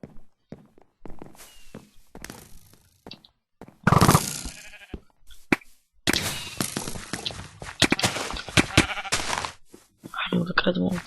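Sheep bleating in the Minecraft video game, several short in-game bleats mixed with footstep sounds and thunks, heard under energetic talking.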